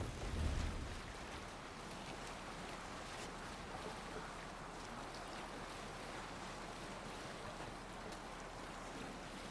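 Ship sailing over waves in Assassin's Creed Valhalla, a steady wash of water and wind rushing at low level, with a brief soft thump at the start and no talking.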